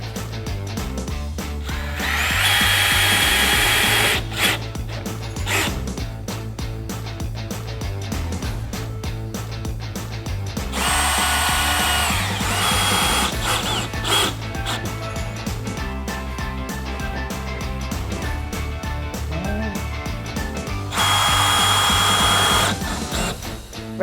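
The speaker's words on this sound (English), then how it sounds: "pre-drill with a masonry drill bit using a drill" A power drill with a masonry bit whirs loudly in three bursts of a few seconds each, pre-drilling holes, with steady music playing underneath throughout.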